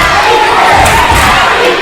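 Boisterous crowd at a high school basketball game between Velma and Strother, a dense, loud roar of shouting and cheering fans filling the gym without pause.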